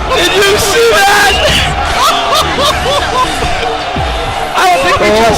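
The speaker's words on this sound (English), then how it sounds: "The crowd is going nuts." Crowd roaring and cheering at a junior varsity high school hockey game, a loud continuous wall of voices with shouts and whoops rising and falling throughout.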